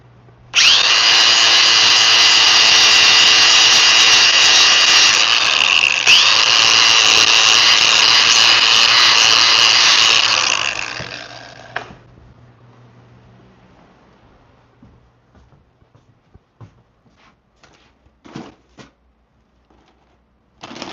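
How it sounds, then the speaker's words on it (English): A power sander runs loudly on a rough-cut Amish wood desk for about ten seconds with a steady high whirring grind, then winds down, followed by quiet clicks and light handling sounds. "Just going to hit this with a sander really quick."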